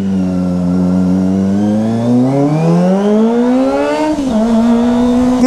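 A Kawasaki ZX-25R sport motorcycle engine revs hard and climbs steadily in pitch, then dips and holds at a high whine, loud and close with no talking.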